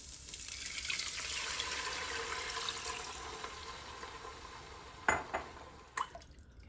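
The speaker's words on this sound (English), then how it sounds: "And now to that, I'm going to add in my water." Water poured into a cooking pot holding spices for Guyanese sweet rice, a continuous splashing gush that tapers off, followed by a few sharp clinks and knocks.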